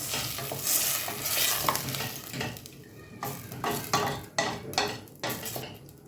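A spoon stirring coconut milk curry with water in a pan, giving repeated scraping, swishing strokes against the metal close up, with a soft sizzle underneath and no talk.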